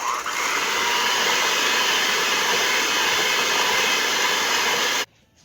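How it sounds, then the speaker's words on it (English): An electric mixer creams sour cream and canola oil at medium speed, giving a steady, loud motor whir that holds unchanged for about five seconds, then cuts off abruptly into near silence. "And we're going to cream these on medium speed until well combined."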